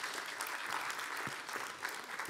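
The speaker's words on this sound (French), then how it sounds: "Vous pouvez l'applaudir très fort." Audience applause at a conference on African diasporas, a steady dense clapping from many hands that holds at a moderate level without rising or fading.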